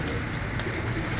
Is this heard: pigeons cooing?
yes